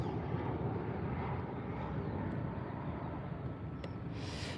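A Ryanair Boeing 737 rumbles at Birmingham Airport, its steady engine roar loud and continuous throughout with no talk, a faint brief click near the end.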